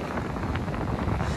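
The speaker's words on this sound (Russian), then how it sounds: "Ветер сильный." Strong wind buffets the microphone beside the Krasnodar reservoir, a dense, continuous rumble with gusty swells.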